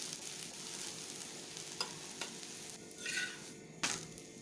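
Green moong dal dosa (pesarattu) cooking over a medium flame on a pan, a soft, even sizzle with a few light taps and one brief louder hiss near the end.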